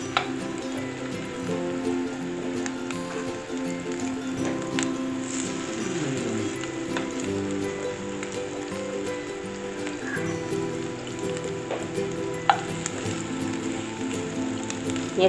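Vegetarian patties fry in a small amount of olive oil with a steady crackling sizzle, moderately close, continuing without a break, with faint clatter and no talking.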